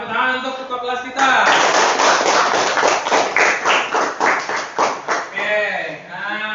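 A school class of children applauds their class leader, a burst of rapid, dense hand clapping lasting several seconds indoors, with someone speaking before and after.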